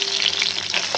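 Fish frying in hot oil in a pan gives a loud, close, continuous sizzle with crackling spatter and a steady hiss.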